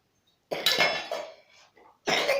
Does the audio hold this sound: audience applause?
no